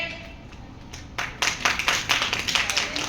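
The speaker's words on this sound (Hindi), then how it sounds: "जोरदार तालियां होनी चाहिए" Classroom clapping for a student, starting as a few scattered claps and swelling after a second into brisk, louder group clapping that continues to the end.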